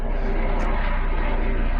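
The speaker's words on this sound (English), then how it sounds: "That's a helicopter." Helicopter noise over an urban garden forms a steady, loud engine and rotor roar that fills the whole short moment without letting up.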